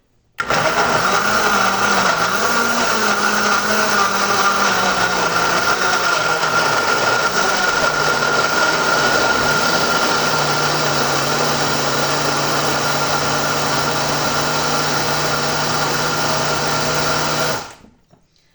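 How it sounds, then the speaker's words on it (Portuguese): A blender mixing carrot cake batter runs continuously at full power for about seventeen seconds, a steady whirring roar that cuts off abruptly. "você vai colocar tudo aqui no liquidificador. E nós vamos bater essa mistura aqui"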